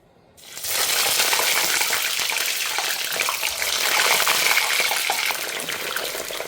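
Wet eggplant hits hot oil and erupts into loud, sustained spattering and sizzling, close and intense from start to finish.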